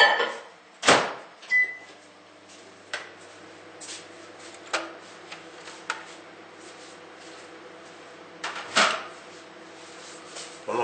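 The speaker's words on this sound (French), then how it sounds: "je vais faire fondre mon beurre pendant 1 minute" A microwave oven melting butter for brioche dough runs with a low steady hum, and several sharp kitchen clacks and thuds of a door and utensils stand out above it.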